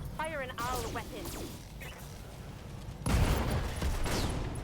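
A BattleTech mech fires its weapons in the video game, a sudden loud crashing volley bursting out midway and rumbling on, after a stretch of quieter game sounds with a voice talking.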